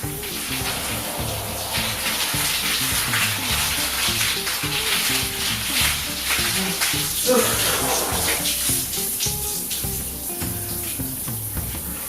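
Cold shower water running while hair is washed with shampoo, a steady close hissing spray that continues unbroken throughout.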